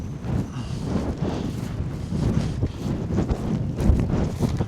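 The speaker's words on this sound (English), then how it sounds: "Yeah, a bit windy." Wind gusting along a Norfolk coastline near wartime pillboxes, a loud continuous rumbling buffet against the microphone that rises and falls in waves, with no voices.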